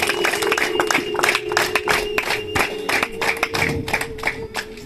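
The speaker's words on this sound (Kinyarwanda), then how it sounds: "Amashyi menshi." Guests at a wedding clap in a loose, uneven patter of individual hand claps, fairly close and moderately loud, with a faint murmur of voices underneath.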